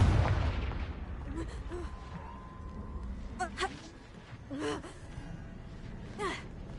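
Spell explosions going off in Hogwarts Legacy, a fiery Confringo blast with a heavy booming onset followed by several sharper bursts and crackles spaced apart, moderately loud, with game sound effects in between.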